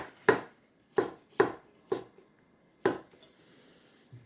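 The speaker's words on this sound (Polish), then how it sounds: "w tej chwili przekrawam ją po prostu na pół i kroję ją w takie cieniutkie, zobaczcie, pół plasterki" A kitchen knife slices peeled mushrooms into thin half-slices on a board: five sharp, close chopping knocks at an uneven pace, with a faint clatter at the end.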